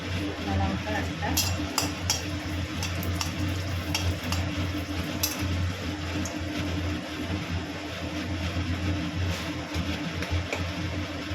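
A bay leaf and a dried red chilli fry in hot mustard oil in a wok, giving scattered crackles and sharp pops over a low, steady sizzle while a voice talks quietly nearby.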